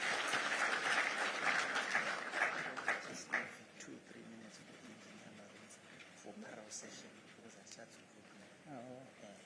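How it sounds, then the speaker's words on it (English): Conference audience applauds the managing director at a safety and health conference, a dense burst of clapping that fades after a few seconds into murmuring and a voice speaking over the room. "Let's give our MD another round of applause."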